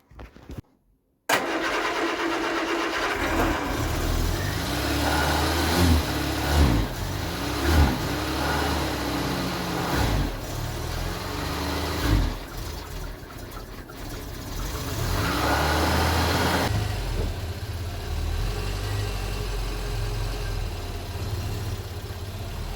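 A Vauxhall Viva salvage project's engine fires up after a short silence and runs with throttle blips, rising and falling revs and a rough, close mid-pitched idle between them.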